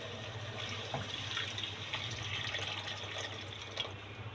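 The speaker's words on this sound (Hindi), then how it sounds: "और इसमें हम पानी डालूंगी इतना दाल के हिसाब से" Water poured into a pot of frying onions and lentils, a steady rushing, splashing pour over a faint low hum, continuous and moderately loud throughout.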